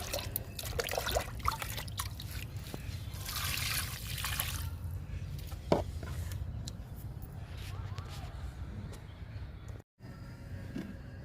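Liquid plant fertilizer being poured and mixed for garden plants, a continuous trickling, splashing stream, fairly close, with a brief quiet break near the end before it resumes.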